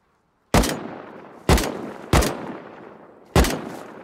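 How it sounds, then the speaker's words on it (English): Gunfire rings out during a base raid in the survival game Rust: four loud, sharp shots at uneven intervals, each with a long echoing tail that fades before the next, and no talking. "Shooting at him."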